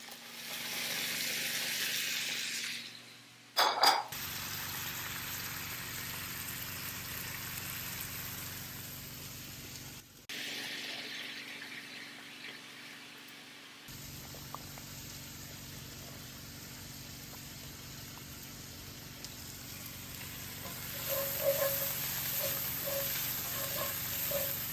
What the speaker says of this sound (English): There's a little sizzle, which is what I want.